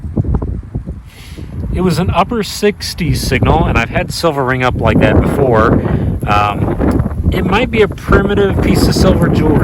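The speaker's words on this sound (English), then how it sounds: "Sorry about the wind." Outdoor wind buffeting a microphone while metal detecting, a rough low rumble that runs continuously beneath someone talking.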